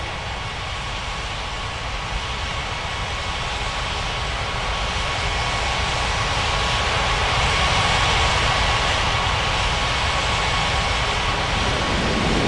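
Steady, loud roar of an airliner's engines at an airport in an air traffic control video game set at Ngurah Rai Bali International, a continuous broadband rumble holding level for the whole stretch with no voices.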